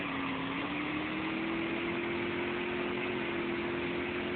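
A motorcycle engine idles close by with a steady, unbroken drone that barely changes pitch, and no one speaks.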